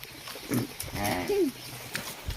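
A buffalo in a village before milking gives a few short, low lowing calls close by, over a quiet rural background with no talking.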